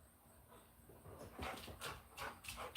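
A dog whimpers and yips softly in short bursts, fairly close, in a quiet home in the morning.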